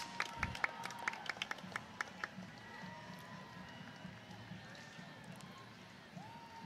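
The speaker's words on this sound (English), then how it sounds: "Give them a round of applause." At a homecoming parade, a few nearby spectators clap in sharp, scattered bursts for passing dancers, then fade into a faint outdoor crowd murmur with voices underneath.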